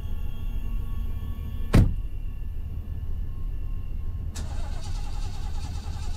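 In a horror video game, a car engine cranks but fails to start, heard as a short sharp burst followed by a steady low idle-like rumble and hum, with a second faint rise later; no talking.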